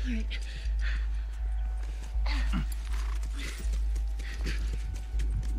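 Rhythmic hoof clip-clops from a horse in The Last of Us, with voices talking over them and a steady low background hum.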